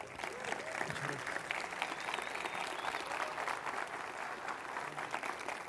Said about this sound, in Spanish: os pido un enorme aplauso para Eduardo Arcos.